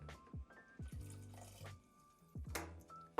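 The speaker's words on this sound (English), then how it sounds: "Now we're going to add in our water as well." Water poured into a pot of lentil mushroom bolognese, quiet intermittent glugs and splashes with drips between them, close and faint with no talk.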